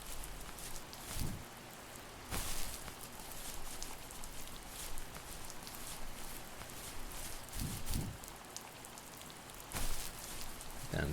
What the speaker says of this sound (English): the sound of the rain always makes me a little cold